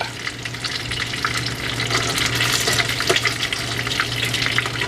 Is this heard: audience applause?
no